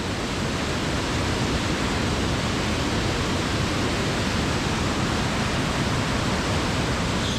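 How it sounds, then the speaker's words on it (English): Fast water thunders down the spillway of Backwater Dam in Scotland, a constant close, loud rushing roar like whitewater rapids with no pause or variation. "The roar from this is incredible."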